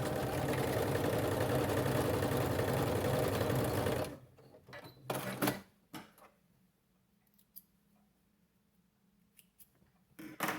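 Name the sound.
sewing machine stitching Christmas stocking closed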